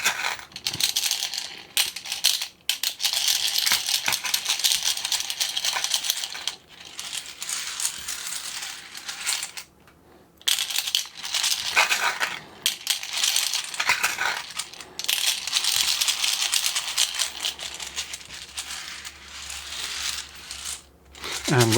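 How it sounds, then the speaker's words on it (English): Screws rattle and clatter as they pour into the hopper of a screw counter, a dense metallic jangle that runs in long bursts with a few brief pauses. "We start by loading up screws into the hopper."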